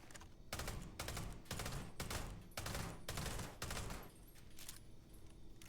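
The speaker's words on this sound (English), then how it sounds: "We do burst fire." Burst fire from the R0 18 Raptor rifle in the game Starfield: about seven short rapid-fire volleys separated by brief pauses, loud and close, with quieter ambience between bursts.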